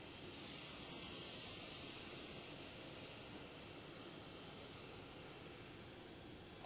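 An airplane engine runs at Rockhampton, a steady broad jet-like roar and whine held evenly from a distance, faint but continuous with no talk.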